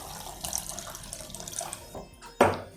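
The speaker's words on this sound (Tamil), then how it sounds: "நல்லா தண்ணி விட்டு வாஷ் பண்ணிடலாம்." Raw white rice being washed under running water in a kitchen, a continuous close splash and trickle with a sharper pour near the end and no voices.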